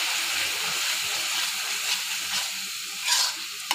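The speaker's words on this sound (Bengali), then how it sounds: "মশলাগুলো একটু ভালো করে ভেজে নিচ্ছি" Ground spices, including chili and turmeric powder, fry in oil with a steady, close hissing sizzle, swelling briefly near the end with a final small clink.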